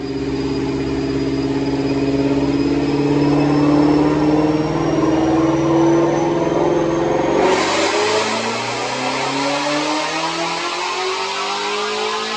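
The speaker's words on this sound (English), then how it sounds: "Check out this dyno pull." Supercharged 2019 Ford Mustang GT350R with a Whipple blower on a Dynojet dyno, engine revving hard in one long rising pull with supercharger whine, then cutting off abruptly into a falling coast-down.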